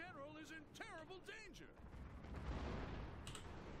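Troops firing guns on a battlefield in Total War: Shogun 2 – Fall of the Samurai, a dense rumbling volley of distant gunfire and crackling shots following a stretch of chirping, whistling tones.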